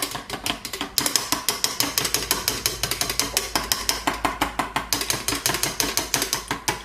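Olive oil is whisked into a mixture for chicken wraps with steady, fast, rhythmic metallic clicking and tapping of a whisk against a bowl, close and loud, with no talking.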